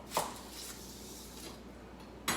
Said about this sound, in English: So we're going to take an onion and cut this up